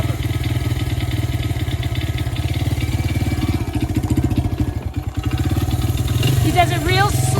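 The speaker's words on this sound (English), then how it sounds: "So when I start letting out the clutch, you start going." A Honda XR100 dirt bike's small engine chugs in a loud, rapid, steady putter close by as the clutch is let out, with voices talking over it and a brief rev near the end.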